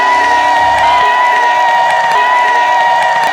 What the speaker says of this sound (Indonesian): Tepuk tangan untuk Bu Siva.